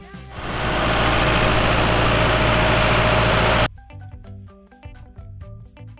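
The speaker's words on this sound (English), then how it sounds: "Tractor." A tractor engine runs with a loud, steady rumbling drone for about three seconds, then cuts abruptly to quieter, unrelated tonal sounds.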